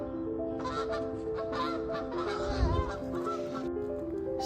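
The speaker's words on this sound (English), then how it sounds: "The goose." A goose honks repeatedly in a loud, nasal series of calls, close by and alone, with a brief deeper thump partway through.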